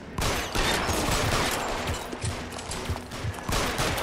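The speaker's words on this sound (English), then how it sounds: "You're getting shot a little bit." Gunfire in the video game L.A. Noire, rapid bursts of shots crackling through a dense, noisy game soundscape, fairly loud and continuous with no speech over it.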